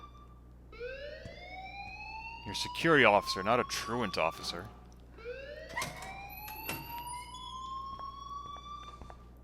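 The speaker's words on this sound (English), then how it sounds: "please turn off that alarm since that's your job" An alarm in the Life Is Strange video game rises in repeated siren-like sweeps, two long climbing cycles, loud and steady in the background while someone speaks over the middle.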